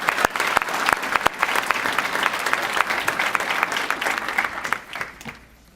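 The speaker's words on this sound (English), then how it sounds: "How about one more round of applause for the speakers?" Audience at a college GED and high school equivalency graduation ceremony applauding the speakers, a dense wash of clapping from a sizable crowd that fades out near the end.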